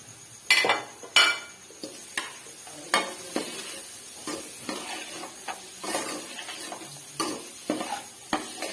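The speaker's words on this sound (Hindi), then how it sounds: "तो थोड़ा सा मैं भूनती हूँ, ज़्यादा नहीं, इसको थोड़ा सा तकरीबन 2 मिनट भूनूंगी" Chopped capsicum sautéing in a pan for chicken pasta, with a soft sizzle under repeated sharp clinks and scrapes of a utensil stirring against the pan, close and without talk.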